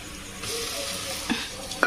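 Fig paste frying in a pan with ginger-garlic paste over low gas, stirred with a soft steady sizzle and a couple of sharp utensil scrapes near the end; no one speaks.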